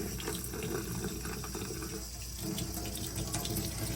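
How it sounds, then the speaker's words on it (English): Steady rush of cool tap water running continuously, close by, with a broad hissing splash that stays even throughout, as an oral appliance is rinsed. "you're going to want to run this under cool or cold water"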